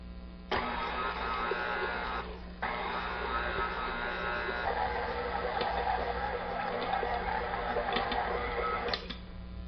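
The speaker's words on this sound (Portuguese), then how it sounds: "a gema e vou deixar bater utilizando o leque até ficar uma massa lisa" A stand mixer with a flat beater runs at low speed through a coconut and cassava cake batter, giving a steady whirring motor drone. A brief dip comes early before the drone resumes and continues to the end.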